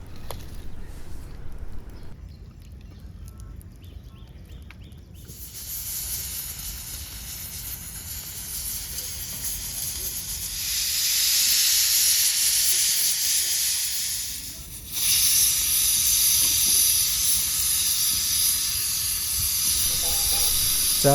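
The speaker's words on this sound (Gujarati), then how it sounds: "હવે ધીમે તાપે 4 સીટી થવા દેવાની છે।" A pressure cooker of guvar gatti on a traditional village clay stove hisses with escaping steam, a sustained loud whistle that swells, drops away briefly and returns strongly.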